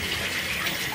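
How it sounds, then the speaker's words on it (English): Hot water pours steadily from a faucet in a continuous, close hiss with no pauses and no voices. "what I'm gonna do is turn on my faucet"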